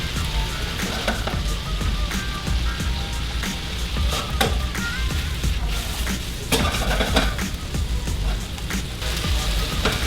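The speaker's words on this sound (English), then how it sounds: "We just want to saute these until they get tender" Pork chops sauté in a pan with a steady sizzle and crackle, broken by occasional clinks of a utensil against the pan, close and continuous.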